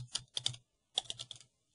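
Quick clicky keystrokes on a computer keyboard come in two short bursts separated by a brief pause, close and fairly quiet.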